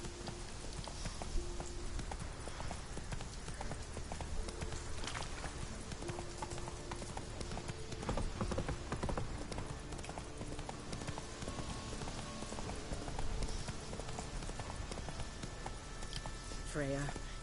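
Horse hooves clip-clop in a steady walking rhythm while riding in The Witcher video game, moderately loud beneath game audio and someone talking over it.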